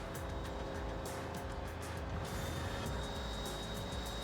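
Racing car engine with nitro boost in the Dreamcast video game Speed Devils, a dense, continuous roar of engine and road noise with a surge midway, faint and steady throughout.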